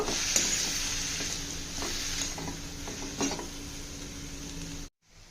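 Ingredients for a north Indian chowli (black-eyed pea) dal sauté in a pan with a steady loud sizzle and scraping stirs, which cut off abruptly near the end.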